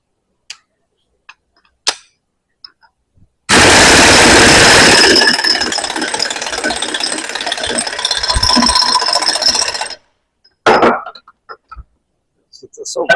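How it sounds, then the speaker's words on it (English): A locking nut on a bucket cylinder is driven home with a loud, continuous rattling burst of hammering that lasts several seconds, with short knocks and clatter before and after. "We'll hammer this down."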